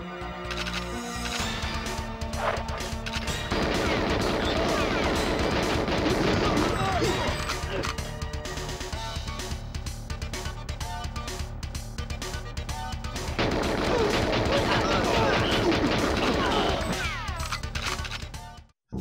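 Grenade blasts and gunfire from a GoldenEye speedrun, with dense bursts of shots and explosions filling most of the stretch and a quieter lull mid-way, all under a layer of game music or noise.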